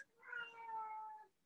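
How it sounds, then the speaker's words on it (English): A house cat lets out a single drawn-out meow, close and fairly clear, lasting just over a second in a quiet indoor room with no talking. "Sorry, my cat called me."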